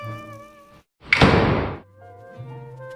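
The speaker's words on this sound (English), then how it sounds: "Ranger closes door." A door closing in an audio-described noir drama, one sharp close thunk followed by a brief rushing swish, set between soft sustained music tones.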